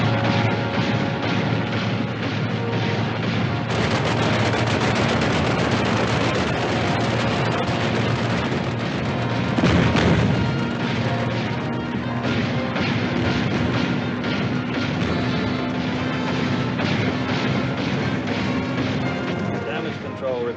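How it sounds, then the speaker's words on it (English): Naval guns on a warship in a 1956 war film boom in heavy, loud, rolling blasts that blend into a continuous roar, with a sharp crash near the middle and voices under the din. "Commence firing. Commence firing."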